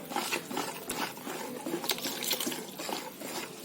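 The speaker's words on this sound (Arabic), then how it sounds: "ده كوبايه من الميه، كوبايه كبيره." Water from a large glass poured into cake batter in a big baking tray for a family cake, a steady splashing pour running for a few seconds with no talking.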